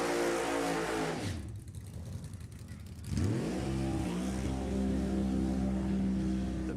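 A funny car drag racing engine, including a 540-inch Alan Johnson motor, is revved hard, dropping to a rough lower rumble before surging back to a loud, sustained roar.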